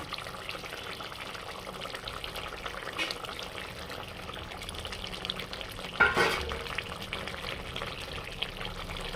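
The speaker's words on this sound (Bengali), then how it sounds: "এবারে দিয়ে দেব ভেজে রাখা মাছ।" Fried pomfret pieces slide into a simmering chilli-oil gravy, setting off a steady close bubbling and sizzle with a brief louder splash partway through, no talk.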